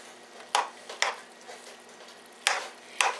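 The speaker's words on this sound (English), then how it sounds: "I'm going to put the sausage in here and mix it all up" Sausage is stirred into a macaroni casserole in a dish, with four or five distinct scraping, clacking strokes of a utensil spaced apart over a quiet background.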